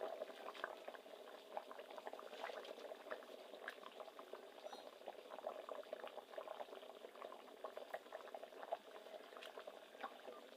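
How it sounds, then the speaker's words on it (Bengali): A rohu fish and elephant foot yam curry boiling in a pot, with faint, continuous bubbling and small pops at a steady simmer. "দেখুন তরকারিতে জাল উঠে গেছে"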